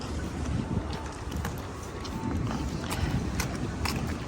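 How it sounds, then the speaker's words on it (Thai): Strong cold wind at the Nakatajima sand dunes roars steadily across the microphone as a continuous, gusty rumble with scattered buffeting thumps and no clear voices. "วันนี้ดันแบบหนาวมากลมแรงสุดๆ"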